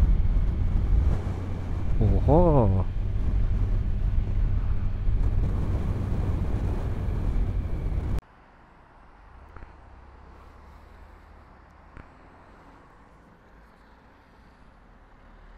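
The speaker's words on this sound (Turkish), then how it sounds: "rüzgar fena vuruyor ha" Strong wind buffets a motorcyclist riding on roads in the Netherlands. A heavy, roaring gust rumbles close to the microphone for about eight seconds, then cuts abruptly to a quieter road hum. A short exclamation is heard during the gust.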